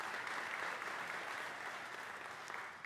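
Audience applause for a scholarship recipient at a Christ Church Charitable Foundation ceremony, a steady wash of many hands clapping, fairly loud and easing slightly over a few seconds.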